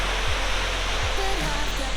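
An ice-bound winter waterfall gives a steady broadband rush of falling water, constant and fairly loud, with a few faint low thumps underneath and no voices.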